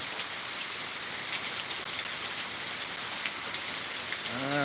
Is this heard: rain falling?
yes